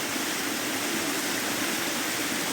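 A waterfall and brook in Middle Black Clough in the Peak District rush and splash in a dense, continuous roar of broadband water noise, loud and close with no pauses or voices.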